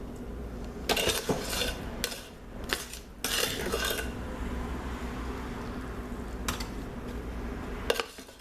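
A long-handled teaspoon clinks and scrapes against a container of homemade exfoliating soap, giving several sharp metallic taps and short clattering bursts spaced over a steady low background hum.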